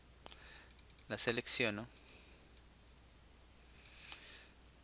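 Quick computer mouse clicks, several in a row, sound close and crisp during a spreadsheet lesson, with someone speaking over part of them.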